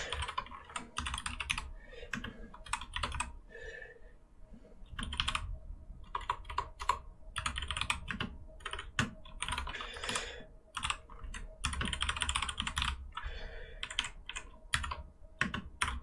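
Fast bursts of clicking keystrokes on a computer keyboard while Python code for a snake game is typed, in irregular rhythmic runs with short pauses, close and clear, with no talking.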